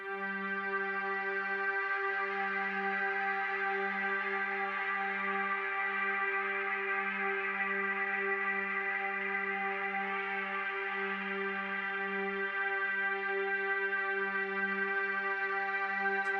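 A steady synthesizer drone holds one sustained chord with a smooth reverberant wash, a low note pulsing gently underneath throughout, with no voices.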